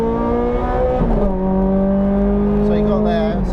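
A Ferrari 430 Scuderia or Challenge Stradale engine roars loud and close with a steady tone. Its pitch drops sharply at a gear change about a second in, then holds a smooth, sustained note until the end.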